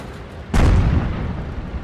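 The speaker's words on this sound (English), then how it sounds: "There's artillery coming in." Artillery fire in the World of Tanks video game: a single sudden deep boom that hits and then rumbles away, heard alone and fairly close.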